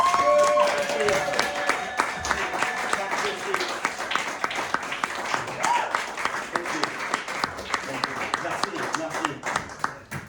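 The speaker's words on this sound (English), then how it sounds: "A round of applause for the guests." Guests at a gathering clap in scattered, crisp hand claps that build into a lively round of applause for around ten seconds, with voices talking over the clapping throughout.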